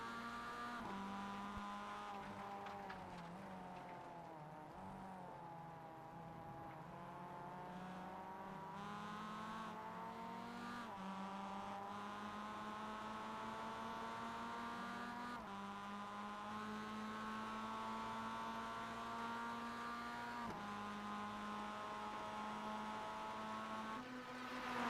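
Mazda race car engines at Daytona in the iRacing simulator, a sustained onboard engine drone with steady harmonic tones that rise and dip slightly through gear and throttle changes, loud and continuous without speech.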